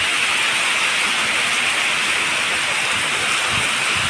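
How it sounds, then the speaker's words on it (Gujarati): Heavy rain pours down outdoors in a dense, steady roar that stays constant and loud for the whole stretch, with no voices over it. "હાલો તો ફાઇનલી જો વરસાદ આવી ગયો."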